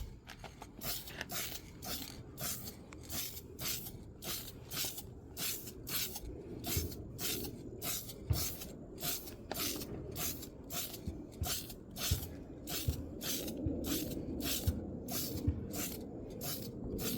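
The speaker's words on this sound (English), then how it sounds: "I'm going to do a nice slow blast" Rust-Oleum clear top coat sprays from an aerosol can onto a wet-sanded headlight in a long series of short hissing bursts with an even rhythm, close and moderately quiet.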